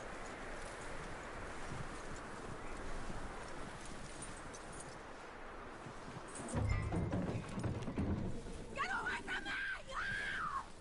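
Horse hooves clip-clop in Red Dead Redemption 2 on PS4, a steady patter under game dialogue and ambience, with a brief harsher burst near the end.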